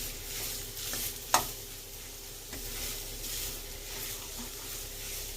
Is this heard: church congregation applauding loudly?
no